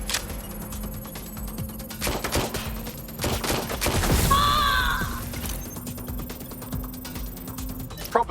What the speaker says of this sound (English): Suspect is shooting!